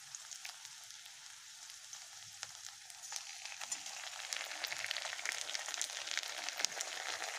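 Ginger, garlic and cumin paste fries in a pan with fried onions, giving a soft, crackling sizzle that builds gradually and stays fairly faint, with occasional light stirring clicks.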